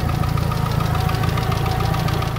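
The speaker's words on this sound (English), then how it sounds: "my next track day at VIR results in engine knock" A Mitsubishi Evo 9 with a 4G63 engine idles with a rapid, regular knocking, loud and close, each tap steady over a low mechanical hum.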